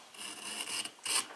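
Close, raspy scraping of a kitchen knife pulled through a Smith's knife sharpener, several quick strokes in a row with a brief pause before a final, brighter pass.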